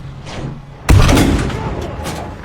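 Artillery gun emplacement firing in the Battlefield V game: one sudden loud boom that hits hard and rumbles on behind it, with game noise underneath.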